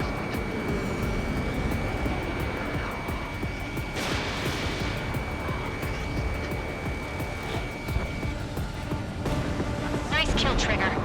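A jet fighter roars continuously in the Ace Combat 7 flight game as a missile fires with a sharp whooshing burst midway, while radio voices come and go over the engine drone.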